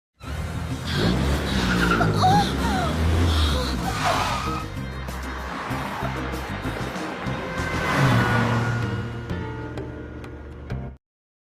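A car speeds past and skids, its tires squealing loudly over a rushing engine sound that swells twice before cutting off abruptly.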